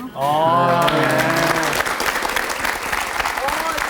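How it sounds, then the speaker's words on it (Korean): Loud, sustained applause from a studio audience at a Korean TV talk show, broad and steady throughout, with a voice speaking briefly over the clapping at the start. "다시 한번 큰 박수 좀 부탁드릴게요"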